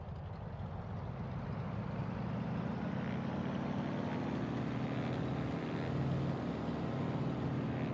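In Microsoft Flight Simulator, an aircraft engine runs up in a steady, rumbling drone that holds at a constant level throughout.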